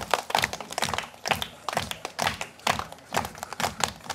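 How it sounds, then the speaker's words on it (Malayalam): An audience at a charity event claps together in a quick, steady rhythm of sharp, close hand claps with short even gaps between bursts. "നല്ല ക്ലാപ്പ് ചെയ്തേ."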